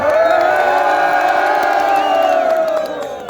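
A large crowd shouts and cheers loudly at a lakeside ice hockey festival at Khalti Lake, Ghizar, with sustained whoops and high voices rising together before tapering off.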